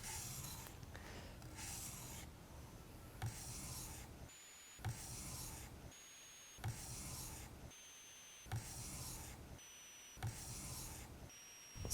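A steel chisel held in a Kell honing guide is drawn across a sharpening stone in steady pull strokes, a quiet rasping scrape repeating roughly every second with brief pauses between strokes.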